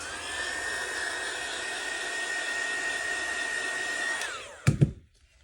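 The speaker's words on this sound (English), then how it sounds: "Let me get the heat gun out." A heat gun blows steadily and loudly on epoxy resin for a bowl, a continuous whooshing roar with a whine, then winds down and stops, followed by a couple of brief clunks as it is set aside.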